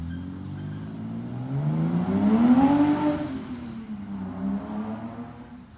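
A BMW passes with its engine revved hard, a harmonic rising in pitch and loudness to a close peak, then falling away as it moves off.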